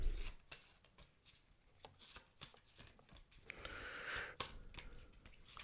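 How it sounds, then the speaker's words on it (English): Tarot cards being shuffled by hand, soft close papery riffles and rubbing in irregular bursts, quiet and with no speech. "I'm going to shuffle."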